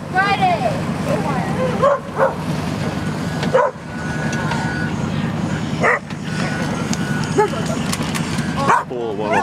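Repeated yipping barks of dogs on a chowder barge amid busy outdoor noise and people talking, the barks coming in short bursts at intervals.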